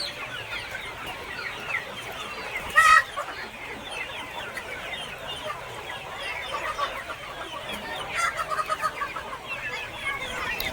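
Desi free-range village chickens cluck close by in a farmyard. A busy, overlapping chorus of soft clucks runs throughout, with one sharper, louder squawk near the start and a livelier burst toward the end.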